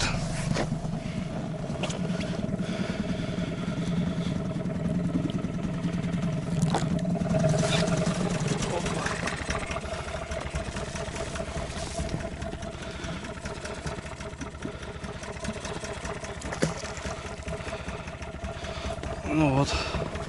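An outboard motor on a fishing boat runs at low, steady revs on a taiga river at night while setting lines for burbot, a continuous mid-pitched drone with water splashing and someone talking over it.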